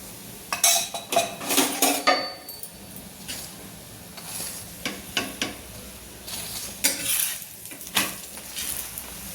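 A fenugreek paratha roasts with ghee on a pan, a soft sizzle under repeated close clinks and scrapes of a utensil against the pan, coming in irregular bursts with no talking.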